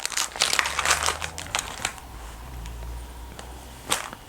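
Crinkling of a thin plastic packet of balloons being handled close by, with sharp crackles and rustles coming in bursts, no talking.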